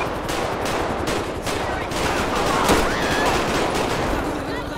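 Sustained gunfire in GTA V during a police pursuit, a dense, loud fusillade of rapid overlapping shots running throughout, with voices faintly underneath.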